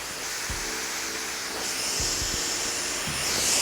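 A hair dryer blows steadily during a bouncy blow dry, with a continuous close airy whoosh and occasional low thumps as the hair is handled.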